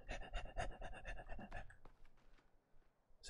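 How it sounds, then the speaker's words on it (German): Rapid rhythmic panting from an approaching enemy in The Forest, a quick run of breathy bursts that then fades into quieter, scattered sounds; fairly faint overall. "Ich höre es doch wieder hecheln."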